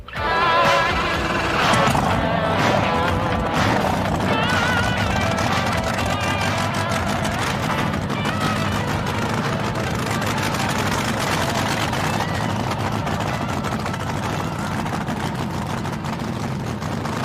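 A 3,000 horsepower nitro drag racing motor runs, a loud, dense, continuous roar with a harsh rasping edge that holds steady across the full stretch, close to the engine.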